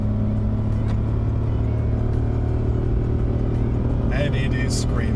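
A 2020 Toyota Yaris Cross hybrid's small 1.5-litre three-cylinder engine drones steadily at high revs from inside the cabin, with a few brief higher tones near the end.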